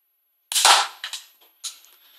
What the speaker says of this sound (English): I'll give you just a bit of a demonstration of it firing.